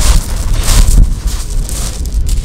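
Gusty wind buffets the microphone in loud, uneven rumbling bursts on a coastal walk in Norfolk toward Salthouse, with no voices or other clear sounds.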